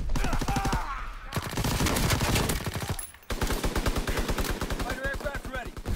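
Thompson submachine gun in a video game firing long, rapid automatic bursts, loud and close, broken by a brief pause, with voices speaking faintly underneath.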